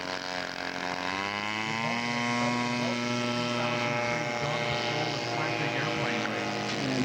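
Engine drone of a scale model de Havilland aircraft flying at a scale aircraft show, a steady buzzing tone that rises slightly in pitch and holds, moderately distant.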